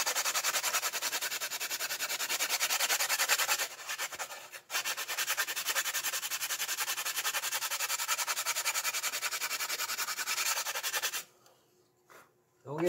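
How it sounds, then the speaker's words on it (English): Steady, rhythmic rasping of a sanding block rubbed back and forth along the bottom of a model aircraft wing, close up and continuous for several seconds before stopping. "I could take a sanding block and just make sure everything's smooth along the bottom"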